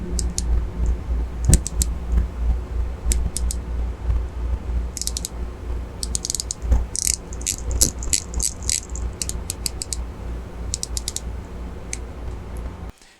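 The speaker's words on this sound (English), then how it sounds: "Since you are probably wondering what a solid gold bezel sounds like" Solid gold bezel of a Grand Seiko Spring Drive GMT SBGE248 watch being turned, bursts of small close crisp clicks in quick runs over faint background hum.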